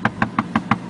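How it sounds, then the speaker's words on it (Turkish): Five quick, evenly spaced knocks rap on a door, sharp and close, in a fast steady rhythm with no talking. "kapıyı çalıyorlar oğlum"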